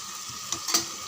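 Chicken biryani masala with yogurt sautéing in oil, a soft steady sizzle with a couple of brief stirring scrapes near the pan, no talk.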